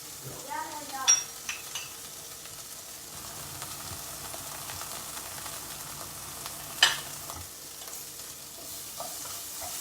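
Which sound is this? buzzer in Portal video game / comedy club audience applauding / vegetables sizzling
vegetables sizzling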